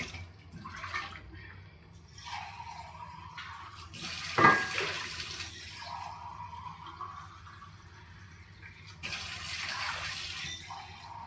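Water is poured into a pan for biryani, a close splashing pour that swells in two louder bursts, with quieter running water between them.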